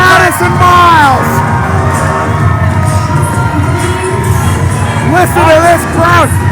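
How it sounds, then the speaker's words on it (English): A wrestling crowd at an IHW event cheers, whoops and shouts loudly, with rising and falling yells over a dense roar, bursts flaring near the start and again toward the end; a commentator talks over it. "Listen to this crowd"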